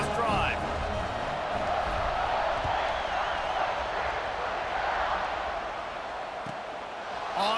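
Big college football stadium crowd in EA Sports College Football 26, a loud, sustained roar of cheering that holds steady throughout, with voices talking over it.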